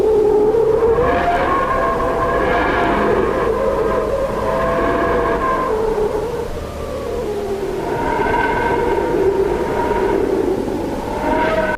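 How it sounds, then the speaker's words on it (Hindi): Eerie, wavering tones rise and fall in pitch over a steady hiss, swelling and fading in slow cycles like a sonified whistler wave recorded near the Sun, loud and continuous. "इस तरह की आवाजों को वैज्ञानिकों ने खास नाम विस्टेलर मेड वेव दिया है"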